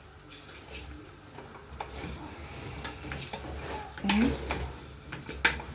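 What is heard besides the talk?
stirring pilau beef rice in a pot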